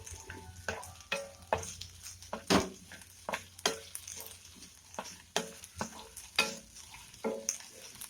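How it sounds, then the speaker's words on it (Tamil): Pirandai (adamant creeper) sautéed in a pan over a high flame: repeated spoon scrapes and stirring strokes over a soft sizzle, close and fairly quiet, in an irregular rhythm. "இப்போ இதை வந்து ஒரு நாலு நிமிஷத்துக்கு நல்லா ஹை ஃப்ளேமில் வச்சு வதக்கி விடுங்க"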